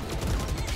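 Rapid gunfire in a shooting video game crackles in a dense, continuous burst of shots, loud and close, with no talk over it.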